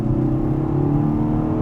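A 2022 Kia Cerato GT hot hatch accelerates under full throttle, its engine giving a loud, sustained droning growl that holds steady through the short stretch with no talk.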